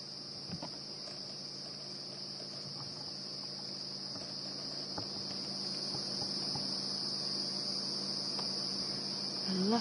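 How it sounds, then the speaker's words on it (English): Dense, steady chorus of cicadas and crickets chirping in the bush at night, a continuous high buzz with scattered clicks throughout, no speech. "Lots and lots of cicadas and crickets all of a sudden."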